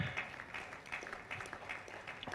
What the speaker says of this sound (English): Please, a round of applause for my colleague.